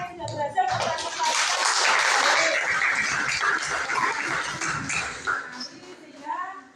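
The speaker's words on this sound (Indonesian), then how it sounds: "beri tepuk tangan untuk 4 kelompok yang sudah berhasil memperhatikan" Classroom applause from students for presenting groups, a dense burst of clapping mixed with voices and cheering that swells and then tapers off.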